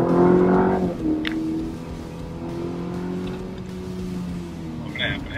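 Small turbocharged engine in a modern American car accelerating in normal mode, heard from inside the cabin as a rising, droning tone that steadily climbs then eases, moderately loud and continuous.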